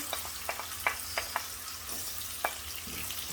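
Onions frying in a generous amount of oil in a pan, a steady close sizzle with a few sharper crackles and pops scattered through it, no voices.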